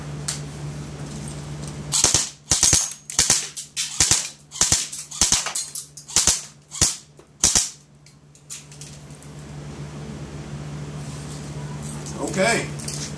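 Airsoft gun shooting at a ballistic mask indoors: a rapid string of sharp, loud cracks bursting in quick clusters over several seconds, then a quieter stretch with steady background hum and a brief faint sound near the end.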